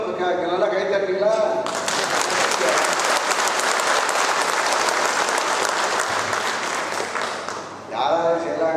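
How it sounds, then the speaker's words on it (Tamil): Loud, dense applause from a large crowd at a political party meeting swells up and holds steady for several seconds, with someone speaking before and after it. "ஆக எல்லோரும் நல்லா கைத்தட்டீங்களா?"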